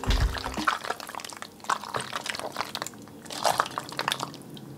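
Creamy homemade macaroni and cheese loosened with a splash of almond milk is stirred in a pot, giving close, wet squishing and sloppy liquid squelches in uneven bursts, with no talking.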